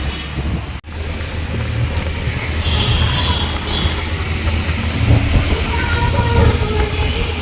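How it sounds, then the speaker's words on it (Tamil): A train bound from Delhi to Agra gives a loud, steady rumble and rattle as it rolls along, with one brief dip in the noise near the start. "ஆக்ராக்கு ட்ரெயின் ஏறுவோம்."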